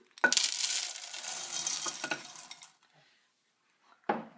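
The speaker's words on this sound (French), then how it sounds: "On fait fondre à feu doux" A spoon stirs butter and chocolate chips melting in a pan over low heat, producing a steady scraping and rustling for a couple of seconds, then silence and one brief final clink, close by with no talking.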